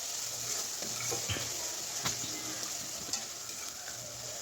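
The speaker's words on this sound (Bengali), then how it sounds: "এবার মশলাটা খুব ভালো করে কষিয়ে নেব।" Masala with raw turmeric is stir-fried for beef curry, with a steady sizzle and sparse spatula scrapes and clicks against the pan, heard close and even throughout without talking.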